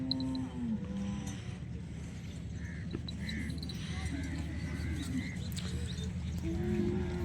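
Nili Ravi buffalo moo at a busy cattle market in Okara, with several low drawn-out calls spread across the clip over constant crowd chatter and market noise.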